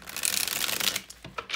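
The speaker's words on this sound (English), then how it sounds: "give us another good shuffle for my Aries out there" A tarot card deck is riffled and shuffled up close, a steady papery flutter for about a second followed by a few softer card slaps and taps.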